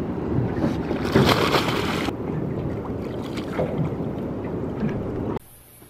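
A small motorboat churns along on open water in Tahiti, engine rumble mixed with splashing and wind buffeting the microphone, cutting off abruptly near the end.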